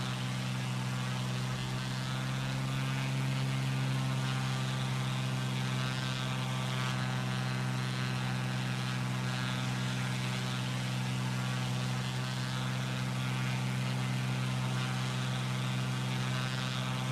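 Single-engine propeller aircraft in Microsoft Flight Simulator run at full throttle along a coastline, a loud steady droning roar with constant harmonic whine holding unbroken and close throughout, with no talk over it.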